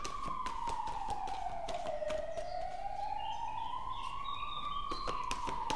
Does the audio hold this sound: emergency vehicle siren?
yes